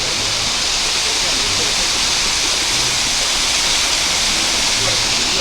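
A loud, steady roar of rushing water at the waterfalls fills the scene without pause, a broad dense wash of sound close by.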